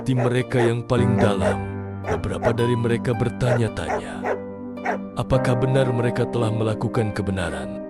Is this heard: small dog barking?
yes